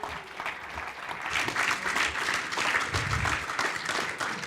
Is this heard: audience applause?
yes